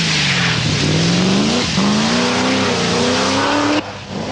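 Triumph TR7 V8 rally car driven at speed on the Donington Park stage of the 1979 Lombard RAC Rally, its engine note rising and falling steadily and loudly, with a brief dip mid-pass and an abrupt cut near the end.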